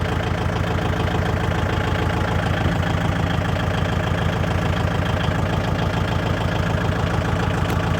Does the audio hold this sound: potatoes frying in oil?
no